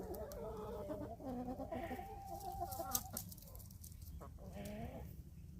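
Chickens cluck and squawk nearby in a farmyard, several overlapping calls in rising and falling phrases over steady outdoor background noise.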